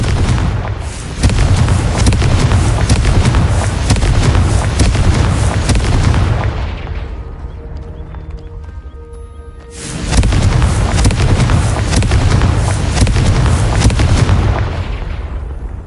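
Confringo blasting spell in Hogwarts Legacy, loud booming explosions in a dense rumbling barrage, a quieter lull midway, then another heavy burst of blasts.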